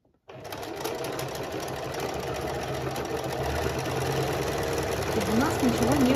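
A sewing machine stitching the hem of a Roman blind, a steady close motor whir with rapid needle rhythm running continuously after a quick start, with a voice speaking briefly near the end.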